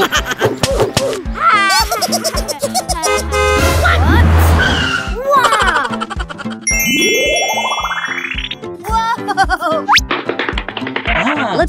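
Cartoon sound effects for a toy car at play: zips, rising whistle-like sweeps, dings and jingly tinkles come in quick succession, loud and close, mixed with bits of animated character voices and music.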